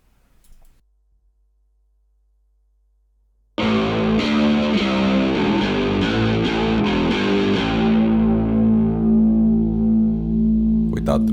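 Bass guitar played through an Amplitube Marshall amp simulation, near-silence broken suddenly by loud, distorted sustained bass notes that ring on and gradually thin out.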